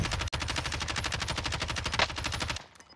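Rapid automatic gunfire from a video game shooter, a dense, loud, steady burst of shots lasting about two and a half seconds before cutting off.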